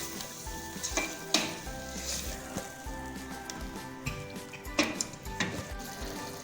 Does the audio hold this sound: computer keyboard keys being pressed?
no